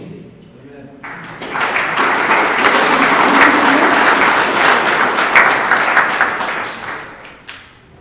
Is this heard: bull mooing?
no